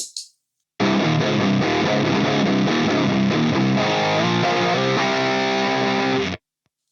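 Electric guitar through a Plasma distortion pedal, heavily distorted, playing a gritty riff for several seconds, loud and saturated, ending abruptly.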